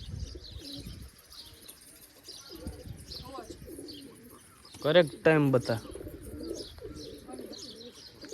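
Homing pigeons coo softly around their loft after returning from a flight, with a louder burst of bird calls midway and someone talking throughout.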